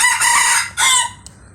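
Young bantam roosters crow twice in close succession, loud and near, each call a bright drawn-out cry, followed by a brief faint cluck and quiet farmyard air.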